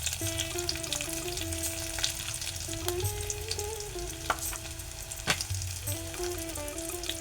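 Curry leaves and turmeric hit hot oil already holding mustard and cumin seeds for an onion-potato rassa bhaji, giving a loud, steady close sizzle with scattered pops and crackles.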